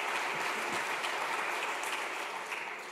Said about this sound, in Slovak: Zaslúži si potlesk.